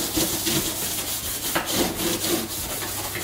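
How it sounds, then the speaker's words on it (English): A scrubbing brush with flexible bristles scrubs a sink in quick, rhythmic back-and-forth strokes, a close, gritty rubbing repeated several times. "Then I like to go in with this particular scrubbing brush."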